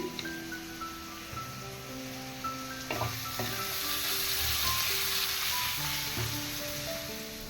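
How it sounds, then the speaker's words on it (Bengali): Spices sizzle and fry in a pan for Bengali chicken kosha, a steady close hiss with occasional stirring scrapes and clinks, carrying on continuously without talk. "আর এখানে চিকেন কষা বানাবো ওই কারণে পাতি কষানো হচ্ছে"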